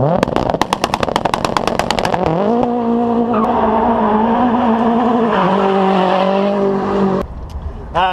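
A Ford Fiesta ST accelerates hard and slides through an obstacle-avoidance run in Toronto. The engine revs climb in quick pulses, then hold a loud sustained drone with shifting pitch, and a sharp crack comes near the end.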